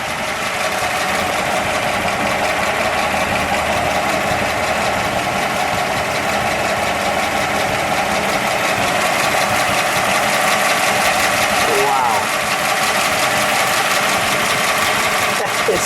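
The engine of a 1940 Buick Limited Model 81C four-door phaeton convertible idles steadily and smoothly at close range, a continuous even hum, with people talking briefly over it.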